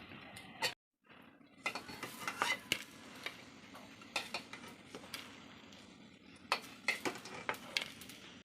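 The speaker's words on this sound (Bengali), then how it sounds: "যে বাকি চারটা যে ছিল এই চারটাকেও আমি এখন ভেজে নিলাম।" Stuffed prawns frying in a pan, heard as quiet sizzling broken by a run of sharp clicks and scrapes from turning them over, close up, with a brief silent gap near the start and no speech.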